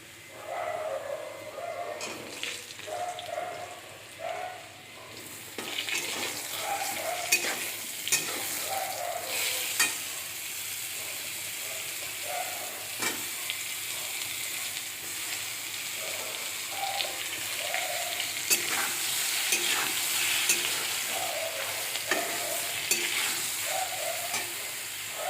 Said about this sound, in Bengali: কালো জিরে ফোড়ন দিয়ে আলুটা ভেজে নিচ্ছি।